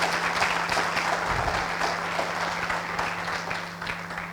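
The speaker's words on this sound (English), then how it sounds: "I'm not even done yet, you clapped" An audience at a book launch party claps steadily, a sustained patter of many hands at moderate distance that tapers slightly toward the end, with a low electrical hum beneath.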